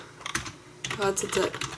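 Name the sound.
computer keyboard typing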